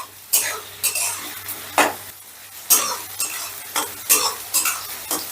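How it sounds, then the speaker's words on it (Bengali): Onion frying lightly in a pan over a medium gas flame, with a steady low sizzle broken by repeated scraping and clinking of a stirring utensil against the pan at an uneven rhythm, close and fairly clear. "এবারে গ্যাসের আঁচটা মিডিয়ামে রেখে পেঁয়াজটা আমি হালকা করে ভেজে নেব।"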